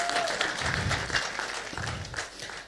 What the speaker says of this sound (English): Can we give the debaters another round of applause?